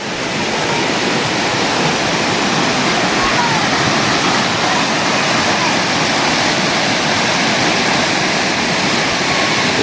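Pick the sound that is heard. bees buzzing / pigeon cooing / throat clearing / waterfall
waterfall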